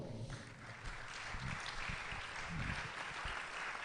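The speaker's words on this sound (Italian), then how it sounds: "Nel frattempo ovviamente potete continuare l'applauso." A theatre audience at a Christmas event in Cagliari's Teatro Massimo keeps up steady, dense applause, a full room clapping continuously without any voice on top.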